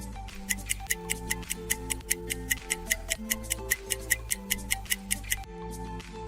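A clock ticks steadily in crisp, evenly spaced clicks over a soft musical backing, close and clear without any talk.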